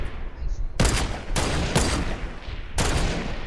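Bursts of video game gunfire in a sniper-versus-runner match after dark, several loud volleys separated by short pauses, with a voice faintly present in the background.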